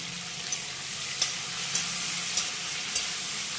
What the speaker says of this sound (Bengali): এবার আমি এই বরবটি গুলোকে হালকা করে একটু ভেজে নেবো।